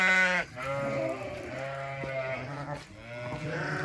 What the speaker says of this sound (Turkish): Koyunlar içeri girdi sıcak vuruyor ya